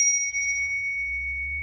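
A single strike on a bicycle-style bell gives a bright, sustained ring that lingers and slowly fades, near and clear, with no talking.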